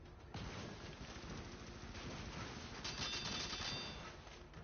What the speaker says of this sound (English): Why does it, my gun go chicka chicka ching when it's running out of bullets, Zach?